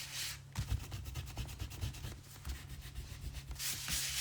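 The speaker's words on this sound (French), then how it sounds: "On n'oublie pas de gommer les marques." An eraser rubs out pencil marks on paper in quick, close back-and-forth strokes, making a soft, rhythmic scrubbing sound with no talking.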